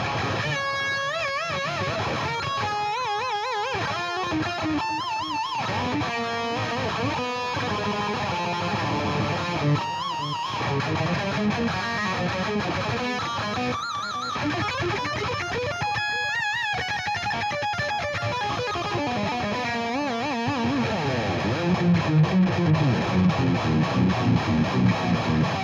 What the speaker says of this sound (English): I like to bend the notes quite a bit, and so having really nice flimsy strings is good for that